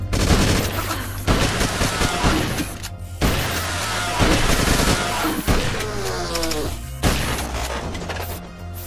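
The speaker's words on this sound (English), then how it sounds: "Hey, give me this gun. It's a shotgun." Shotgun blasts in the video game Beyond Sunset, a run of loud, heavy booms spaced about a second apart, each with a sharp crack and rattling tail, over busy game noise.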